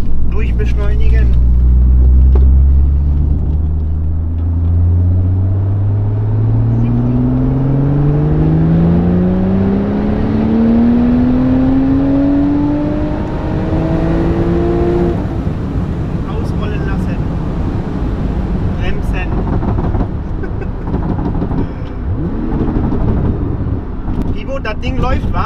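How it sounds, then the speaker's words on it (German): A Porsche 911 Turbo S accelerating hard in fourth gear: loud engine roar climbing steadily in pitch for about fifteen seconds, then sustained wind and road rush with a voice talking briefly over it. "So, einmal Leistungsmessung. Im vierten Gang durchbeschleunigen."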